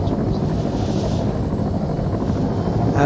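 A helicopter in the Arma 3 video game fills the sound with a steady, loud rotor and engine rumble that holds constant throughout, with no voices.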